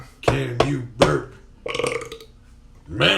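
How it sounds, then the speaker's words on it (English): A person burps repeatedly, loud and close, several short guttural belches followed by a longer drawn-out one, with brief gaps between them. "Can you burp?"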